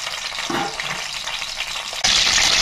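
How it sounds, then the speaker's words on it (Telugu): Green chilies fry in hot oil for a spicy coastal crab curry, a busy sizzle that suddenly turns brighter and louder near the end. "కొద్దిగా పచ్చిమిరపకాయలు వేగే వరకు వేయించుకుందాం"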